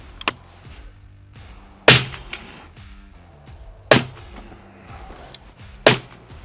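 Three sharp rifle shots ring out at even intervals of about two seconds, each a loud crack with a short decay, fired outdoors while testing a Nocpix MATE 2 H50R thermal scope at 100 metres.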